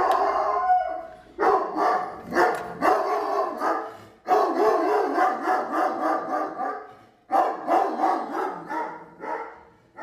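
A dog howls close by in long, drawn-out wailing calls, repeated several times with short breaks between them.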